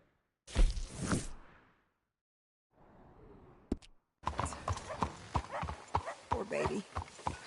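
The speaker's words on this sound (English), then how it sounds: "I really love that horse." Horse hooves clip-clopping in Red Dead Redemption II, a series of close, uneven thuds and scuffs in the latter half, after a short burst of sound and quieter movement.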